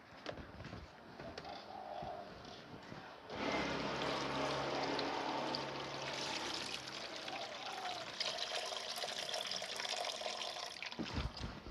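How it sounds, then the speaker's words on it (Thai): Cooked fermented fish sauce (pla ra) being strained to remove rice and fish bits: after a quieter start, a steady close pour of liquid runs for several seconds, then tails off into trickles. "ต่อไปเราก็จะมากรองปลากันค่ะ"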